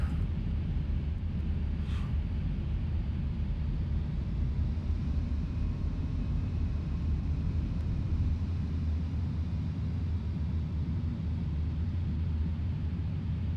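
Flight Simulator X airliner taxiing off the runway, a steady low engine rumble with a broad airy hiss that holds at an even level throughout, with no voices.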